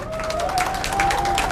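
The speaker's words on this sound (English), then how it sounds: "Give him a round of applause" Audience applause and cheering from a crowd at a Ugandan community meeting in Boston, steady dense clapping throughout with a raised voice faintly audible over it.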